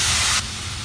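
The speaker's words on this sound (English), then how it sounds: "For oil, you could use coconut oil, vegetable oil, extra virgin olive oil, canola oil, whatever you have on hand. I'm just spray it around a little bit." Cooking oil sprayed into a pan for chicken fajita lasagna: one short, loud, close hissing burst that cuts off sharply, then quiet background noise.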